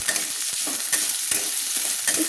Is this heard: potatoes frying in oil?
yes